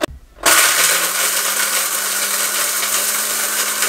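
An electric kitchen grinder whirs loudly as it grinds cardamom pods with sugar. After a short quiet start it kicks in and holds a harsh, steady high-speed grinding whine, with no talk.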